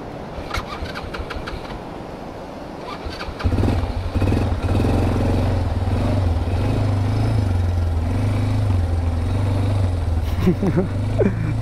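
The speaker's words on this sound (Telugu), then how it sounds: "ఇప్పుడైతే మనం ఈ ఏడీవీని టెస్ట్ డ్రైవ్ చేద్దాం. పెట్రోల్ ఇంజన్ కదా" A small ATV petrol engine starts with clatter, then runs steadily with a droning, idling hum and occasional revving on a beach, with a little talk near the end.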